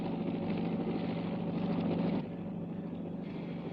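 A helicopter hovers above a tower, giving a steady droning rumble with a tonal whine that drops slightly partway through, with no voices.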